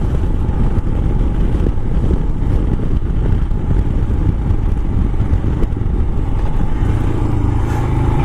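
A 2022 Royal Enfield Himalayan motorcycle ridden off-road, its engine a steady loud rumble heavily mixed with wind buffeting the microphone throughout.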